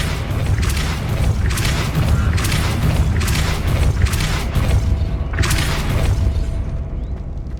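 Depulso spell cast in the Hogwarts Legacy video game: a series of loud, booming magical bursts with rumbling low thumps and crackling, repeated over several seconds against a dense game soundscape.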